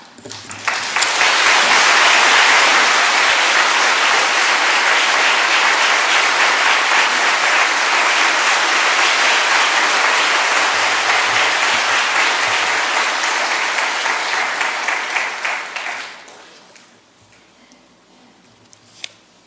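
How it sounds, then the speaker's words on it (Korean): A church audience applauds loudly and steadily for about fifteen seconds to welcome a speaker before the clapping quickly dies away into quiet. "이렇게 나오실 때 우리가 박수로 좀 환영하겠습니다."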